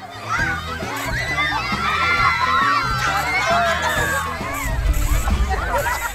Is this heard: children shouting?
yes